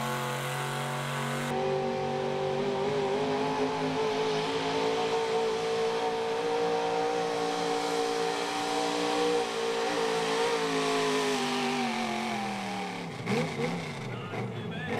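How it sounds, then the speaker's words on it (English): A modified small block 4x4 pulling truck roars at high revs through a full pull at an evening truck pull event in Fishersville, Virginia, the engine howl sustained and loud for most of the clip before dropping off near the end. "He calls this truck Black Betty, making the first official pass of the evening in the small block class."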